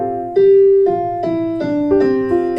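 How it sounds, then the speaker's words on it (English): A beginner plays with a weak, straight pinky, producing a run of about six sustained, loud notes whose pitches sag and slide between changes, sounding choppy and uneven, with no voices. "it leads to sloppy, choppy playing and this very uneven sound that you typically hear in a lot of beginners"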